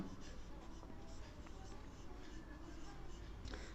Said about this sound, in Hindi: अपन एक लाइन लिखते हैं